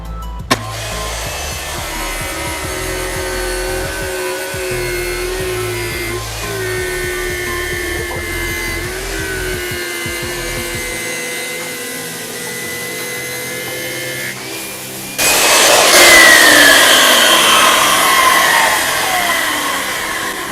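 A rigid wet saw fitted with a QEP 7-inch diamond glass blade whines at a steady pitch as it cuts through glass, then rises into a louder, harsher grinding near the end, with no talk.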